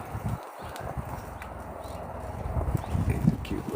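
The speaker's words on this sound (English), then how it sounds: "He's got a really nice trot that he collects up." A small show-type horse trots collected during a training session, its hoofbeats a steady, fairly close clip-clop beneath a low outdoor background with some faint voice-like sound.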